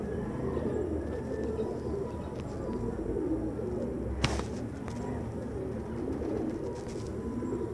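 Pigeons cooing steadily at a busy pigeon market, with a low murmuring chorus of birds and one sharp click partway through.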